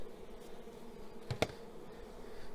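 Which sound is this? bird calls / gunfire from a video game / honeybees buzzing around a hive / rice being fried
honeybees buzzing around a hive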